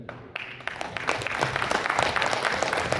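Scattered clapping from an audience at a large event in Mumbai, a dense run of claps building over a few seconds and holding steady at moderate loudness, with no voices.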